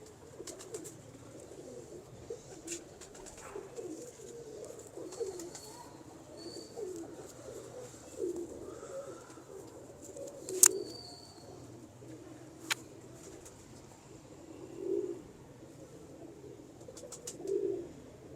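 Soft, low pigeon coos from breeding pigeons repeat on and off at a moderate distance, with a few sharp chirps and rustles scattered over a quiet background.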